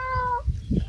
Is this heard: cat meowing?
yes